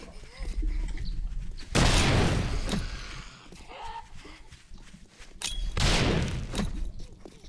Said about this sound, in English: Let's throw down a grenade.